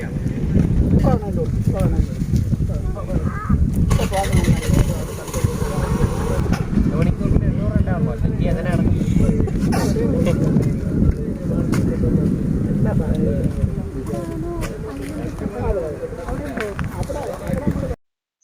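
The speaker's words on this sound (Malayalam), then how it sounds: "നല്ല കാറ്റ്." Strong wind buffets the microphone throughout a boat trip on the backwaters of Munroe Island in Kollam, a steady loud rumble with water and motion noise, while people talk over it.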